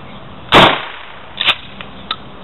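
A shotgun fires a 28-gram shell of 7.5 shot, one sharp loud blast followed by a smaller crack and a couple of faint distant reports outdoors.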